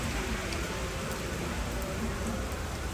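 Rain falls steadily in the Rocinha favela in Rio de Janeiro, a dense, even hiss of drops on surfaces lasting the whole time, close and fairly loud, with no voices.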